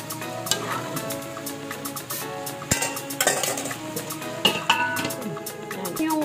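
Food fries in oil with a close, crackling sizzle, mixed with sharp clinks and scraping stirs of a utensil against the pan throughout.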